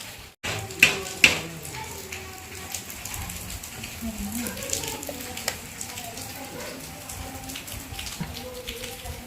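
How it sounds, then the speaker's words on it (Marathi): A spice tempering sizzles in a pan over a wood-fired clay stove, crackling continuously with a couple of sharp pops near the start and scattered snaps throughout. "चुलीवर फोडणी चालू आहे"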